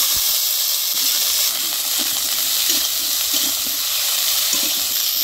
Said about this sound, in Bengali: ডিম ভাজা তেলের মধ্যে আমি দিয়ে দিব বেগুন